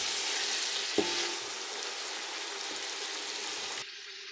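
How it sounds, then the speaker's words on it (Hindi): Tomatoes sizzle and fry steadily in a pan for chicken kofta biryani, with a brief stir-clatter near the start and a continuous hiss throughout. "अब इसमें हम टमाटर डालेंगे, इसको हम भूनेंगे।"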